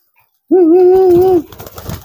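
A released pigeon coos in a single loud, sustained, close call of about a second, followed by faint rustling and background noise.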